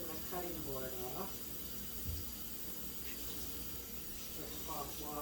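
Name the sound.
water running in sink while washing a cutting board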